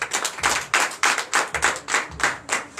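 Rhythmic group clapping in acclamation at a Sunday church service in Benin, loud, close and unison, about nine claps in under three seconds with no voices.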